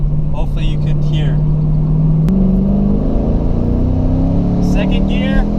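A 2014 Chevy Camaro SS engine hums steadily, then rises in pitch as the car accelerates, with a brief shift partway through. Someone talks over the engine noise.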